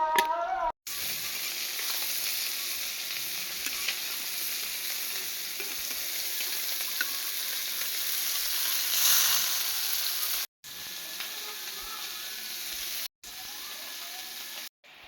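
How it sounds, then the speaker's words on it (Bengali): Pumpkin fries in a pan with a steady, fairly loud sizzle and stirring scrapes, interrupted by a few brief breaks of silence. "কুমড়া ভাজি করতেছি।"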